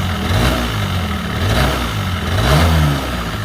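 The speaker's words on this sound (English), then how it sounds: "And then it's like revving up really slow." Honda Spree scooter fitted with a big bore kit revving up slowly, the engine note rising and falling in two swells over a steady close idle, no voices.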